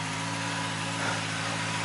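A steady, low idle from a Honda CB650R motorcycle, started on a misty morning after sitting outdoors, rumbles continuously, even and unbroken, with a faint broadband hiss over it.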